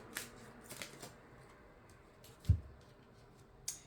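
Tarot cards being handled and one drawn from the deck, with soft papery slides, light flicks and a sharper tap, close and quiet with no speech.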